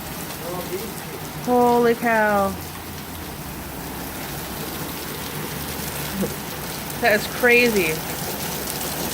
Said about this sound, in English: I'm getting rained in on.